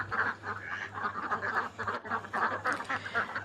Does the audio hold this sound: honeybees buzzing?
no